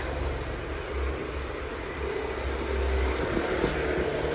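A car engine idles steadily just after starting, with its air pump emission control system running, giving a continuous low hum and whirring drone at a fairly even level with no talking.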